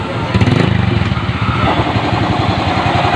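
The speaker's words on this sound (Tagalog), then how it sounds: "Ayan, umanda na yung motor ni Busing." A motorcycle engine runs steadily after being started, close and loud, its low rhythmic chugging continuous throughout; a noisy compressor is also present in the workshop.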